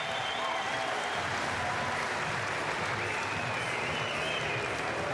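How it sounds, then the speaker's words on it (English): Crowd roars and cheers at a track cycling World Cup race in Cambridge, New Zealand, during a bronze medal sprint, a steady dense wash of noise from a large audience with no gaps. "Listen to the crowd."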